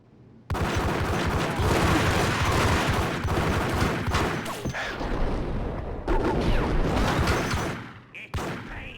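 Rapid gunfire from a gangster's gun in the video game Max Payne, a dense, loud fusillade of repeated shots running almost continuously across the clip, with brief pauses near the end.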